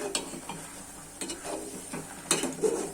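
Mango pieces simmer in sugar syrup with a pinch of chili powder for a sweet mango preserve, stirred in the pot. Quiet bubbling carries soft scraping stirs and a few sharper clinks, close by, with no voices.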